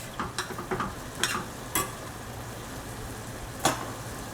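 Wilted cabbage is scraped and stirred in a cooking pan with a soft sizzle beneath, several short scraping strokes close by, then a pause and one final scrape, no voices.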